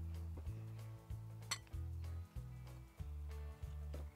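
Spoon clinking steadily against a bowl while balsamic vinegar and olive oil are stirred into a Greek-style bulgur salad, a close, rhythmic series of ringing metallic knocks with one sharper clink.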